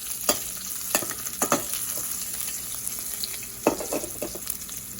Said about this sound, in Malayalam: ഇതിലോട്ട് വെളുത്തുള്ളിയും പച്ചമുളകും കൂടിയിട്ട് ആദ്യം ഇട്ട് കൊടുത്ത് ഒന്ന് വഴറ്റാം